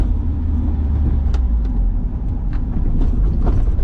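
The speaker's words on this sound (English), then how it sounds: "There's still a little bit of road noise" Road noise inside a rebuilt Honda CR-V fitted with coilovers, a steady low rumble and tire roar filling the cabin while driving, with faint clicks and rattles now and then and no talking.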